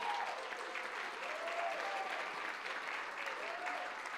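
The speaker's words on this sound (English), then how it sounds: "let's give Kedron a round of applause" Soft, sustained applause from a crowd at a youth award gala. The clapping sits at a steady level at some distance, with faint whistle-like tones drifting above it.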